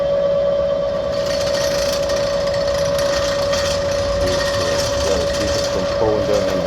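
An electric drill grinds steadily into a broken M12x1.5 bolt stuck in an aluminum wheel, giving a continuous high whine with rough chattering underneath that barely changes through the stretch.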